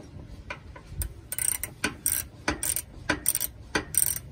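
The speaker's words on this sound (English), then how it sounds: "But I'm going to cheat and use" Ratchet wrench clicking in quick bursts while tightening a bolt on RV Sumo Springs, several close, crisp ratcheting runs separated by short pauses, no talking.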